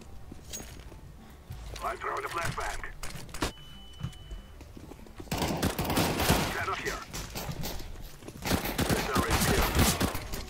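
Rapid CZ pistol gunfire in a CS:GO match, bursts of sharp shots crowding together in the second half, with a quieter stretch of game noise and a short tone earlier.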